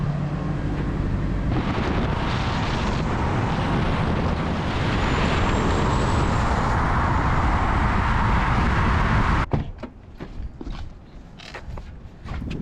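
A Nissan 240SX, left sitting all winter, starts and runs with a loud, close, steady engine roar, then the noise drops away into softer scattered knocks and handling sounds.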